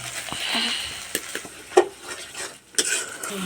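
Onion paste and tomato fry for a mushroom curry, a soft sizzle broken by scattered scraping stirs and spoon clinks against the pan, close and moderately quiet.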